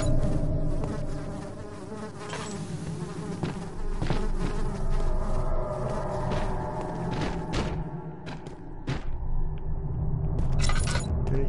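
Loud, continuous insect buzzing in the horror video game Amnesia: The Dark Descent, a droning hum that swells and fades with scattered thumps and clicks, no voices.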